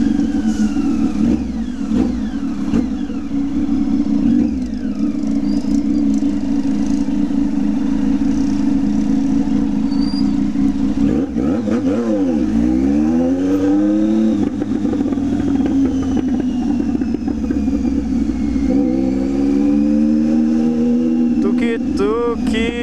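A Honda Tiger motorcycle engine drones loud and close, then revs up and down in swooping accelerations, with a rider's voice over the engine noise.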